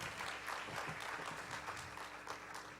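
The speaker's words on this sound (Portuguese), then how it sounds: "Vamos receber o pastor Leandro com uma salva de palmas ao Senhor Jesus." Audience applause at a Portuguese-language women's church gathering, greeting a pastor as he comes forward; steady, moderately quiet clapping from a crowd that continues without a break.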